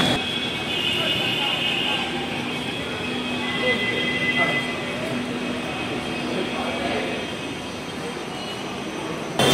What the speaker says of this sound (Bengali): আন্ডারগ্রাউন্ড মেট্রো, যেটা গঙ্গার তলা দিয়ে হয়েছে